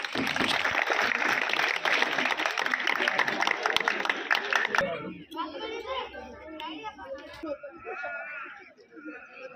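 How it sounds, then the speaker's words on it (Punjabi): Applause fills the hall at an annual prize-distribution ceremony of a government middle school in Boothgarh village, dense and steady for about five seconds before it breaks off into chatter and children's voices. "ਤਾੜੀਆਂ ਹੋਣਾਂ"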